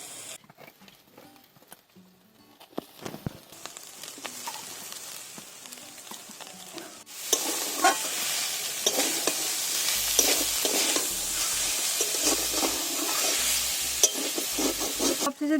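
Chicken meat goes into hot oil with spices for a Mughlai paratha filling. Quiet clatter and stirring scrapes build into a loud, dense, continuous sizzle while the spoon keeps knocking and scraping in the pan.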